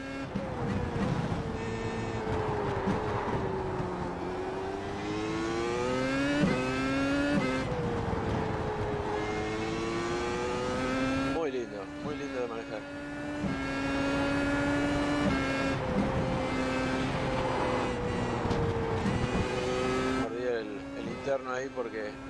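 An old Williams Formula 1 car lapping a track in a racing game, its high engine note climbing and falling through gear changes and braking over a long stretch, with someone talking throughout.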